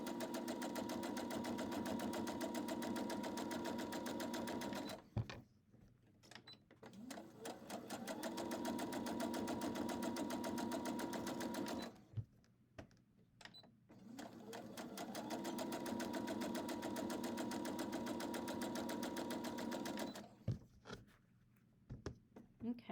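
Sewing machine stitching the second seam line on half square triangles for a heart quilt block, running in three long steady bursts with brief quiet pauses between them, close and fairly loud.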